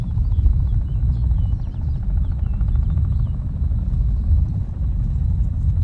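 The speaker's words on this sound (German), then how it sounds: "warum fliegt der Hubschrauber noch?" A helicopter drones overhead, a continuous low rotor rumble that stays steady and fairly loud with no voices over it.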